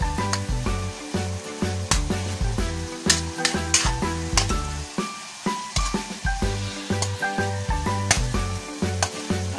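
Pork pieces fry in a pan until browned, giving a steady sizzle with periodic stirring scrapes, while background music plays throughout.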